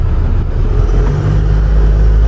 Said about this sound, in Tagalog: Dahil makabog itong sasakyan.